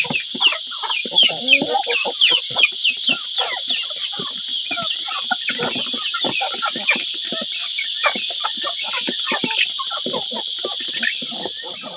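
Chickens cluck in quick, scattered bursts close by on a farm in the morning, over a steady high chorus of crickets and insects, with no talk.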